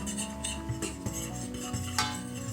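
A fork stirs a flour roux in a cooking pan, giving quick repeated metallic scrapes and taps against the pan, close and quiet, with no talking.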